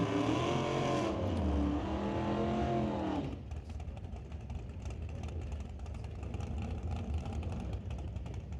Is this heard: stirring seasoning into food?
no